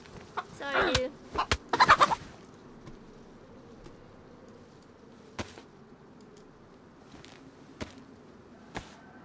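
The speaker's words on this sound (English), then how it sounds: "I hear a chicken." A chicken clucks in the video game DayZ, a quick burst of loud close squawking calls followed by quiet ambience with a few sharp isolated clicks.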